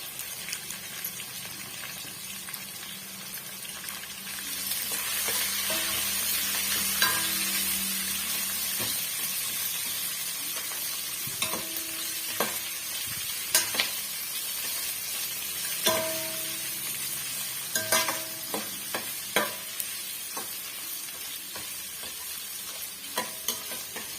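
Ingredients for lemon rice sautéing in a pan, a steady close sizzle that grows louder after a few seconds, punctuated by scattered scrapes and taps of a spatula stirring against the pan.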